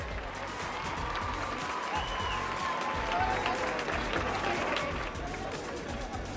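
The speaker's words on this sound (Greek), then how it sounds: "Το πιο θερμό σας χειροκρότημα." Audience applause at the 2005 Mad Video Music Awards show, a steady wash of clapping and crowd noise filling the hall throughout, with faint background voices mixed in.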